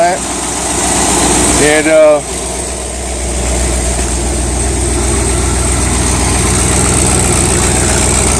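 A 1978 Chevrolet El Camino engine idles steadily with a low exhaust rumble throughout, and a person speaks briefly near the start.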